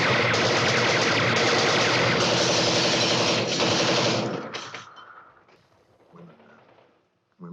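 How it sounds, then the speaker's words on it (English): Sustained machine-gun fire from outside a building in the 1964 film Dr. Strangelove, with loud rapid bursts for about four seconds before fading into quieter scattered shots and movement, with faint voices near the end. "Shooting from outside the building."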